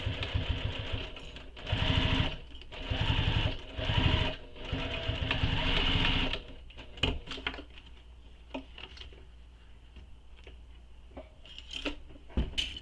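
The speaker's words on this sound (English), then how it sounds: "Now we're going to repeat that for this second side. And again, we're just basting these in place." Sewing machine basting fabric pieces in place, running in loud close bursts of rapid stitching followed by quieter intermittent clicks and handling.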